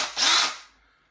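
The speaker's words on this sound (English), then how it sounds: "I'm using on my Makita drill a 22mm or 7/8 of an inch boring bit" A Makita drill fitted with a 22mm boring bit bites into a plastic pot, a brief loud whirring grind that peaks quickly and then winds down to quiet.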